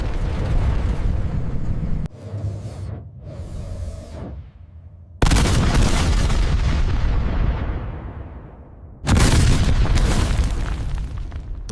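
Heavy military-grade weapons fire against an indestructible wall in a train-versus-wall simulation: loud booming blasts and artillery-like bursts in several dense, roaring sections separated by brief drops, with no voices.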